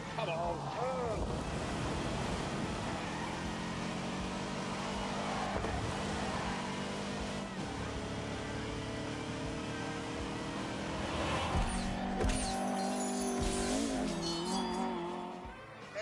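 A car with a twin-cam 1.6-litre engine drives hard, its buzzing, high-revving note loud and continuous throughout, with wind and tyre noise mixed in and a voice briefly audible.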